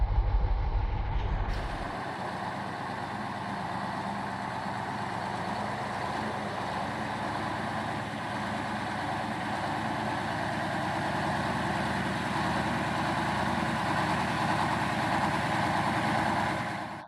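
A KrAZ-256B1 Soviet heavy truck's engine runs steadily and loudly up close, a dense droning rumble with a mechanical whine that holds level for about seventeen seconds after a brief change at the start.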